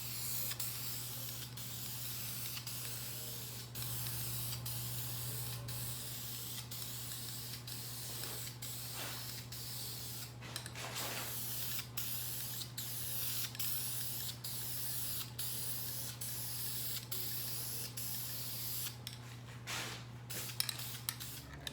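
Spray paint hissing from an aerosol can onto a Ram Promaster City hubcap in a medium wet coat, a steady close hiss running almost continuously with a few brief breaks and a constant low hum underneath.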